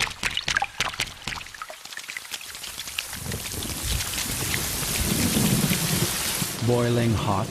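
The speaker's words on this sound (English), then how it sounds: "the first rain." Heavy rain pours steadily with a low rumble of thunder building beneath it, loud and continuous throughout.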